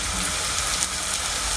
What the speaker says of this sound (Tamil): நல்லா வெங்காயம் பொரிஞ்சு வரட்டும்.